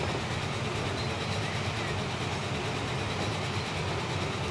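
A train climbing an uphill gradient in the Transport Fever video game, a steady continuous rumble of engine and rolling wagons that stays even and close throughout, with no other sounds.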